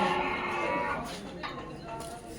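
A low, drawn-out moo from a buffalo sounds at close range, fading out as a faint background murmur continues.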